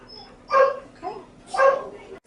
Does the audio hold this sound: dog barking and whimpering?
yes